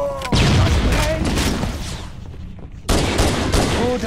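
Rapid bursts of gunfire in the Halo Combat Evolved Anniversary video game, heard as loud, dense volleys that pause briefly and then resume.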